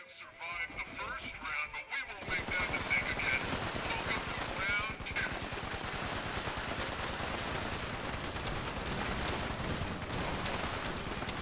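Rapid gunfire bursts in Fallout 76 keep up a dense, continuous rattle of shots after a quieter opening with a few faint game sounds.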